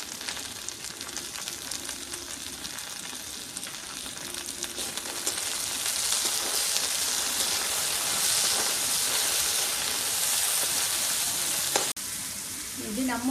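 Onions sautéing in oil for ennai kathirikkai brinjal kuzhambu, a steady close sizzle and crackle that grows a little louder partway through and continues without pause.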